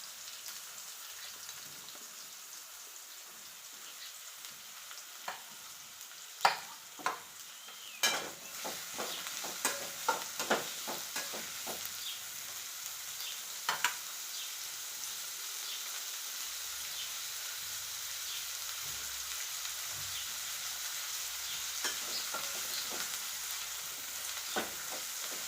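Chopped onions fry in a pan with a continuous soft sizzle, punctuated by scattered clicks and scrapes as they are stirred. No one speaks.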